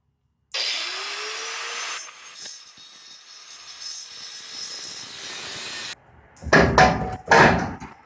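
A drill bores out broken exhaust manifold studs on a Ford F-150 engine, making a steady whine for several seconds, then a pause, then rougher grinding bursts close by.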